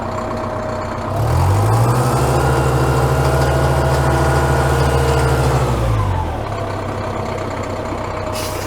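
A Caterpillar loader that had sat dead for over a year runs its diesel engine close by, idling roughly, then revving up to a loud, steady higher pitch for several seconds before dropping back to idle.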